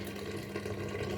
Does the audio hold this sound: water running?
yes